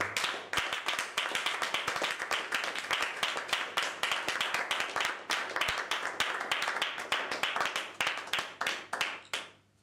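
A church congregation claps in praise of the Lord, a dense, loud stream of sharp handclaps that keeps going for several seconds before it thins out at the end.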